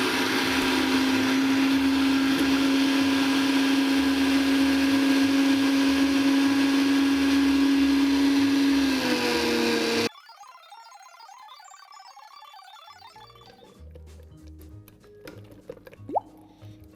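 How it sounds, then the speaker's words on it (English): A blender whirs loudly and steadily for about ten seconds while mixing aioli, then cuts off, followed by quieter clinks and small kitchen noises. "start blending it a bit"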